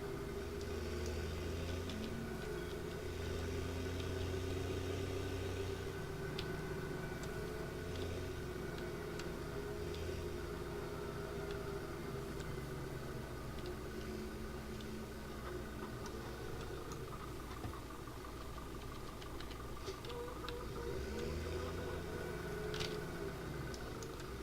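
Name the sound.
tractor engine running, from a farming video game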